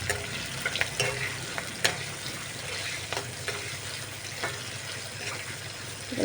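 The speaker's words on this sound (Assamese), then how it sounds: "এইখিনি চিকেন এতিয়া দি দিম। পিঁয়াজ নহৰু এইবিলাক ভাজিম, অলপ ভাজি ল'ম।" Chicken pieces sizzle steadily in hot oil with onion and garlic for an Assamese-style chicken dish, a continuous crackling frying hiss with a few sharp clinks of a stirring utensil against the pan.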